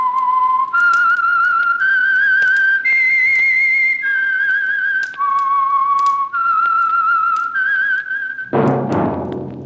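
Whistled theme signal for the old-time radio mystery program The Whistler: a solo human whistle carries a slow, eerie melody of about eight sustained notes, loud and close, ending in a short burst of noise.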